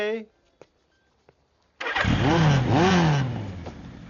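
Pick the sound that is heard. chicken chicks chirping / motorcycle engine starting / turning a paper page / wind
motorcycle engine starting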